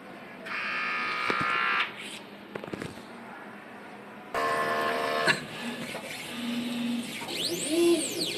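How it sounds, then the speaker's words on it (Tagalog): An inkjet printer runs a nozzle check after a head clean, with two bursts of whirring print-head and motor buzzing separated by clicks and shuffling, followed by softer mechanical chirps and tones nearby. "Nozzle check."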